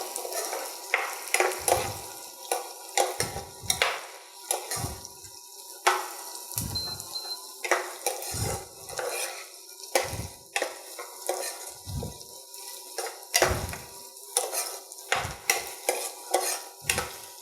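Vegetables for vermicelli upma being sautéed and stirred in a pan, with repeated scraping strokes of a spoon about every one to two seconds over a steady sizzle, close and with no talking.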